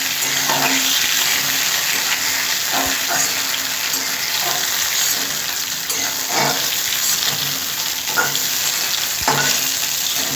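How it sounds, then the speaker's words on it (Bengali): Ridge gourd fries in hot oil in a pan, a loud continuous sizzle with repeated scraping stirs from a spatula, no voices. "ঝিঙেগুলো আমার হালকা করে ভাজা হয়ে গেছে। তেলের ওপর আমি জাস্ট নেড়ে নিলাম।"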